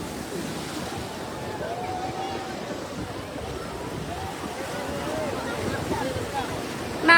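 Ocean waves at night on the beach at Cox's Bazar, a steady broadband wash of surf with wind buffeting the microphone throughout, and faint voices intermittently beneath the roar.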